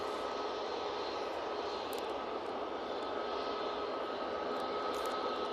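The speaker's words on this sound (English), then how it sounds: "there's the Ryanair from Cork. Just about touchdown." A Ryanair jet from Cork touches down at Manchester Airport, giving a steady, faint engine hiss and whine with a thin sustained tone running through it, without any voices.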